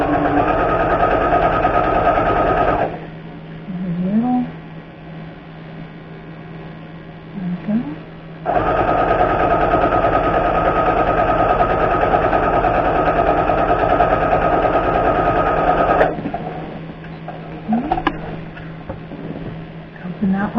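A sewing machine stitches a lined zipper pouch in two steady bursts of rapid mechanical whirring, separated by quieter pauses with soft handling noises and brief talk, close and clear.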